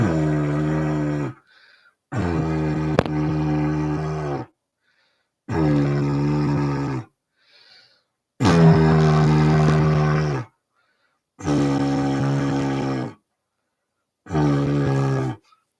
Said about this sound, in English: this little small travel didgeridoo, which let me see if I can get this one to work.